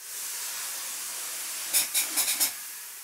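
Spray foam insulation hisses steadily while being applied in a basement, a constant faint spray with a few short, sharper bursts of spraying near the end.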